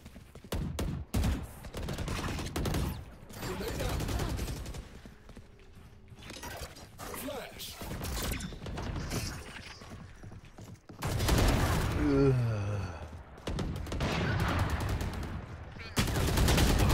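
Bursts of video game gunfire from a newly tried gun crackle through a noisy mix of voices and effects, with rapid volleys scattered across the stretch and a dense, loud barrage near the end.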